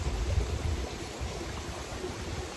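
A small outflow stream from a glacial pond burbles steadily at close range, a continuous broadband water rush with a low rumble and no voices.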